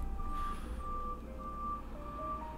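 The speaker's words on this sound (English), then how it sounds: "the garbage truck is here and fucking my shit up" A garbage truck's reversing alarm beeps in a steady, evenly spaced series of high tones over a low engine rumble, faint and somewhat distant.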